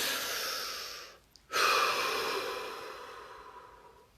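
A person takes deep breaths: a long, steady airy exhale, a brief pause, then another strong breath that slowly fades out, close and clear with no talking.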